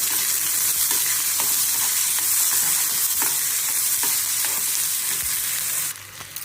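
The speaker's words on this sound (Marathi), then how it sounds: "आता ह्याला छान भाजून घ्यायचं" Ingredients frying and being stirred in hot oil for Karnataka-style lemon rice (chitranna), a steady close sizzle with repeated light scrapes of the spoon, cutting off sharply near the end.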